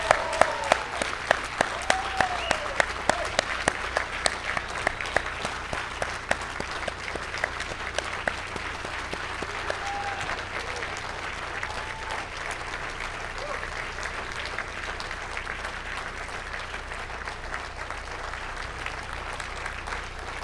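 At a town gala, a crowd delivers sustained applause that begins with sharp, distinct claps and settles into a steady, even roar of clapping for about twenty seconds, with faint voices and calls mixed in.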